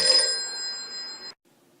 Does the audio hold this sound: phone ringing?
yes